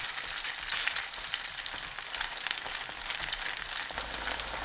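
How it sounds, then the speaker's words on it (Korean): Steady, close crackling sizzle of soft tofu and breadcrumb batter pan-frying in oil over medium heat, continuous with no talking. "식용유 두른팬이 예열되면 반죽을 올리고 중불로 노릇하게 부쳐주세요"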